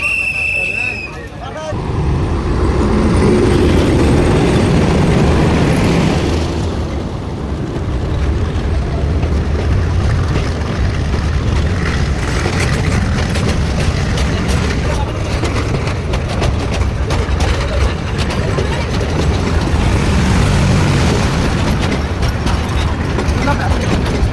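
A Dhaka-bound Narayanganj commuter train pulls out of Shyampur railway station, its loud, continuous rumble and clatter holding steady throughout with no speech over it.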